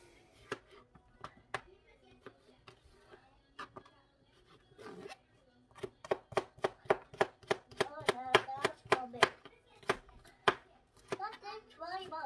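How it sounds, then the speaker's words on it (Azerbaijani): Tomato, cucumber and onion being chopped for a salad on a cutting board, a steady run of sharp knife strikes, sparse at first then quickening into fast rhythmic chopping, close and clear with no talking. "İndi isə yüngülvari bir salat hazırlamaq istəyirəm. Pomidor, xiyar, biraz soğan"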